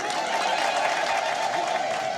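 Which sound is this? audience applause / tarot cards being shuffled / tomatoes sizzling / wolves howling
audience applause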